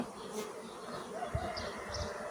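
Honeybees buzz steadily around an upper hive body added for expansion, a dense close drone with a few individual bees passing near, no talk over it.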